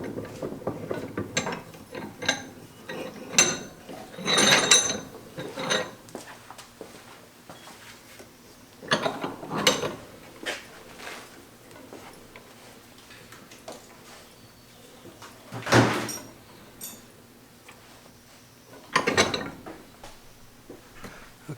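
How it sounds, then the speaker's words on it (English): A bench vise presses a bushing into a trailer leaf spring in a series of separate creaking, clicking mechanical bursts with quiet gaps between them, close by and with no speech. "And I'll just use the vise to press it in the rest of the way."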